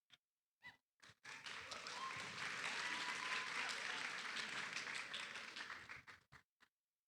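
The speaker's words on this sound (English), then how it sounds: "One more round of applause." Applause from a high school TEDx audience swells from a few scattered claps into a full round lasting several seconds, then thins back out to isolated claps and thumps.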